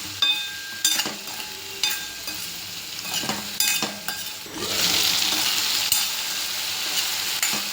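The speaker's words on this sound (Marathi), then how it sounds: "ही जी कापून घेतलेली भेंडी आहे ही परतून घ्यायची आहे मीठ टाकायचं आहे" Cut okra sautés in oil with salt, with rhythmic spatula scrapes and clinks against the pan over a constant sizzle that grows into a louder, fuller hiss in the second half.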